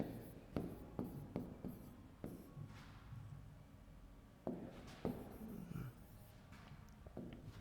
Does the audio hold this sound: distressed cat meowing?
no